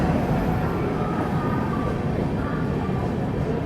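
The LHB Tirunelveli–Purulia SF Express, hauled by a Santragachi WP7 locomotive, arrives late at Bhubaneswar station platform 2, producing a loud, steady, close rumble with no break throughout.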